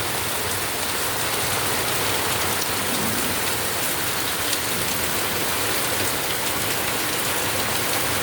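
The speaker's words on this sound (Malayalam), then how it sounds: "എന്താണെങ്കിലും നല്ല മഴയാണ്." Heavy monsoon rain pours down steadily outdoors, a dense, loud, unbroken hiss of drops hitting surfaces and ground, with no voices.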